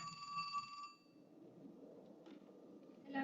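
An old-style telephone rings with a bright, steady bell tone that cuts off after about a second, leaving a faint hiss and a few soft clinks, then a brief second ring starts at the very end.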